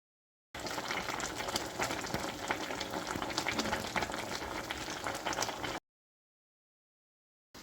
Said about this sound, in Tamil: இப்போ வந்து நல்லா கொஞ்சம் நேரம் கொதிக்க விட்டாச்சு